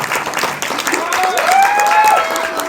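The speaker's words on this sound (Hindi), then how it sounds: "जोरदार तालियां" Applause from the audience at a Hindi film trailer launch event, a continuous wash of clapping with a tonal voice or music rising over it in the middle.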